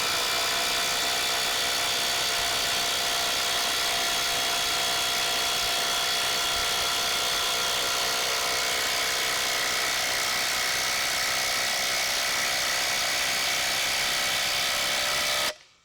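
Bosch 1800C impact driver drives a screw under load, giving a loud, steady, high-pitched whir that runs unbroken for about fifteen seconds before cutting off abruptly at the end.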